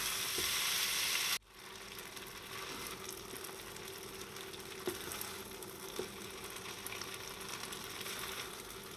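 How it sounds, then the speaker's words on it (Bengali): Spinach atta noodles frying in a pan give a soft, steady sizzle after a loud hissing burst cuts off at the start, continuing quietly with a few faint clicks. "একটু ভাজা ভাজা হলে নামিয়ে নেব।"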